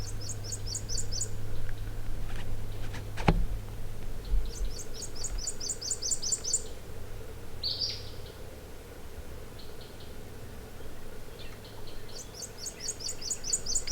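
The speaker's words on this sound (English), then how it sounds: "And you can hear the Acadian flycatcher singing in the background." Acadian flycatcher singing in a forest, sharp high-pitched bursts repeated several times at intervals, moderately distant over a quiet background hum, with other faint chirps between.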